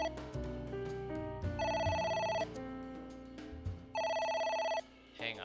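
An electronic telephone rings in the video game AI: The Somnium Files, two bursts of a bright trilling tone separated by a pause, playing over steady game music with no talking.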